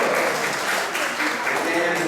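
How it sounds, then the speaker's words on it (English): A congregation at an ISKCON Sunday class in Atlanta applauds visiting devotees with sustained, full clapping, while voices carry on underneath. "let's give a round of applause for the wonderful devotees"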